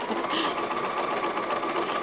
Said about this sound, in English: Now you see the needles going back and forth, back and forth.